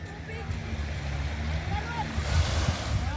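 Surf rolls in at a seashore at sunset, a steady roar of breaking waves with wind buffeting the microphone, while people talk over it.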